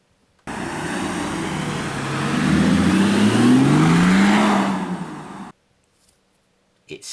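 An Audi V12 diesel car engine revs up loudly and steadily, its pitch rising and falling over several seconds before cutting off abruptly.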